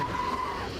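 A truck's tires skid under hard braking in American Truck Simulator, a short sustained squeal over steady engine noise.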